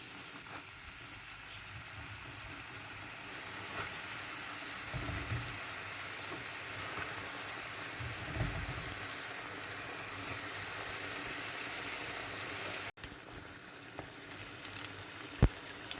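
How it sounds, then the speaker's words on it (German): Dough buns fry in oil in a preheated pan, giving a steady close crackling sizzle that runs on for many seconds, with a few soft knocks and a sharp clink near the end as the sizzle drops lower. "Ich schütte jetzt Öl in eine vorgeheizte Pfanne und gebe die Teigbrötchen dazu."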